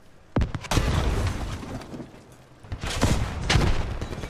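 A tank's main gun firing and the shell exploding on an enemy in the combat game Squad: two loud, booming blasts with rumbling tails, close and dominant, with no talking over them.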